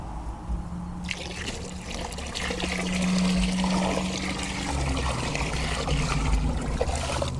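Water pours and splashes steadily into a container to dilute pool shock, a continuous rushing trickle that grows fuller and louder partway through.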